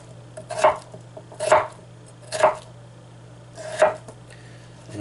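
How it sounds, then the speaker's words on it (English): A knife chops potatoes into half-inch cubes on a cutting board, four distinct sharp thuds at a slow, steady rhythm, close and clear over a quiet low hum. "we're going to do 1/2 inch cut again, but we're going to go all the way back"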